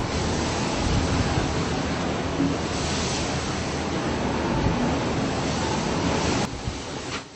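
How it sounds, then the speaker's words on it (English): Continuous roaring wash of large ocean waves at sea, dense and loud with wind noise throughout, easing slightly near the end. "Large waves at sea are far more dangerous than they look on a screen."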